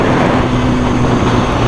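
A 2015 BMW S1000RR motorcycle engine accelerates on a test ride, a loud, dense and steady roar mixed with wind rush, heard close for under two seconds with no voices.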